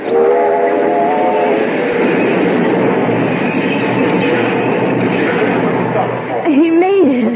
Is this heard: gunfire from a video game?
no